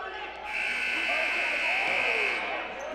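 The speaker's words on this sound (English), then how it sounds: "Stolen, Ocasio at the buzzer!" End-of-quarter buzzer at a high school boys basketball game: a loud, steady electric buzz lasting about two seconds, heard over crowd noise and commentary.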